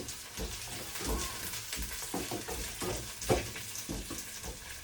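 Dried red chillies and torn curry leaves frying in hot oil for a chayote and lentil curry, giving a steady crackling sizzle with irregular stirring scrapes and small pops, fairly close and moderately loud, with no talking.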